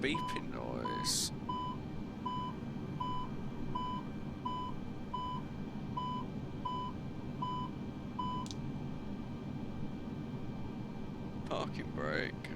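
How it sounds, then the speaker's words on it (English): A master warning alarm sounds in a Microsoft Flight Simulator airliner cockpit at the gate: a string of about a dozen evenly spaced, clear electronic beeps over a faint steady hum, ending abruptly. "What's that beeping noise?"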